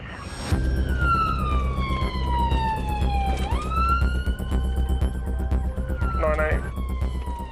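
An ambulance siren on an emergency call with blue lights, a loud wailing tone sweeping down and then up over steady road rumble, with a brief burst of rapid yelp near the end.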